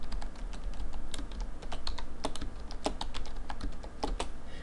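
Steady fast typing on a computer keyboard while entering spreadsheet formulas in Excel, a continuous run of close, crisp key taps with a few louder strokes and no talk.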